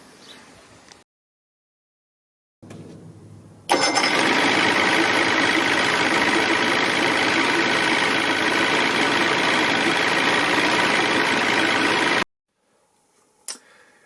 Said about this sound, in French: comme vous pouvez le voir, le moteur a très bien démarré